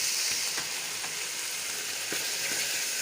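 Butter melts and sizzles in a pan for carrot halwa, a steady close frying hiss with a few faint stirring scrapes and no talk.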